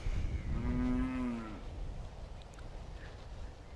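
A cow on a farm gives one long, loud, droning moo near the start, fading into quiet outdoor background noise.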